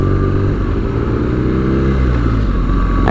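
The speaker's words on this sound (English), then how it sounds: "they just make a nice popping noise as you go along" A 2017 BMW R nineT Scrambler motorcycle riding along with a steady, loud exhaust drone and low rumble throughout, a slight rise in pitch near the end.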